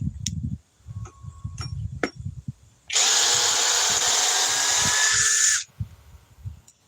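A power drill whirs loudly and steadily for about three seconds while removing a part from a leg, alone in the middle of quieter handling clatter and knocks.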